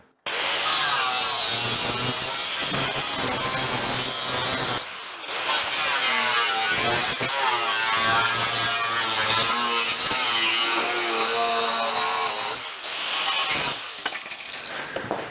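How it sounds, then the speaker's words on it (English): Power saw cutting a piece off a custom fender for a Chevy truck, loud and continuous across the whole span with a brief pause near the middle, the whining, rasping cut running up close with no talking over it. "So I'm just going to cut this piece off, then we can go try it again."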